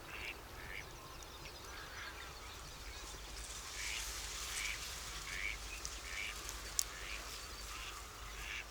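Wintering geese call at Villafáfila in Spain's Tierra de Campos, a scattered chorus of honking and quacking calls spread over a steady background hiss, moderately distant, with one sharper call standing out briefly.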